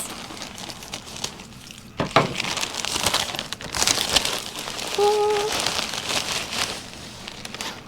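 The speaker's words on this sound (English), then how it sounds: "Shake it down a bit so I don't cut these pants." Linen pants shaken down inside a plastic mailer bag: loud crinkling and rustling of plastic that starts abruptly and continues in irregular bursts, with no talking.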